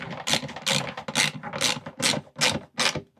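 Ratchet wrench tightening the bolts on a replacement sump pump, about seven quick rhythmic clicking bursts evenly spaced, close and clear with no talk.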